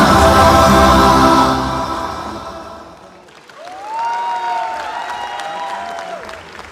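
Dinner audience at an Indian Independence Day gala breaking into loud applause after a performance, with music still playing. The clapping fades and then sustained tonal singing or music carries on alone.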